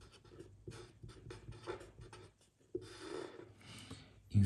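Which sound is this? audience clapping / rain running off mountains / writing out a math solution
writing out a math solution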